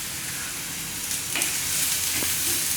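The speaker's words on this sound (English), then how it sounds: "I think the onions have started to brown a bit" Onions frying in a pan for chicken fried rice give a steady, even sizzle that holds at a constant level throughout, with no voices over it.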